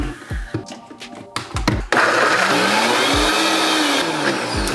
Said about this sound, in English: I have a Vitamix, so if it's struggling on a Vitamix, it's really gonna be hard to make smoothies on anything else too.